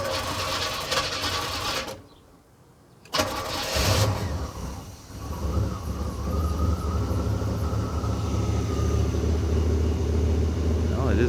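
A 1980 Turbo Trans Am V8 cranks, catches, and settles into a steady, loud idle after a brief pause, with a rough, continuous rumble close up.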